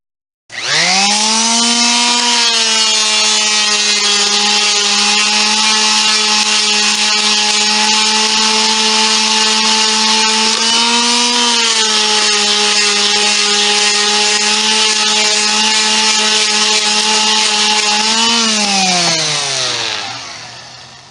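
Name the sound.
power sander running over wood, removing adhesive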